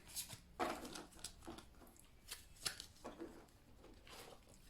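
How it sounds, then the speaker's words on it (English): Playing cards riffled and shuffled in several short papery bursts, close by, with small taps and pauses between them. "Again, I do apologise for my shuffling."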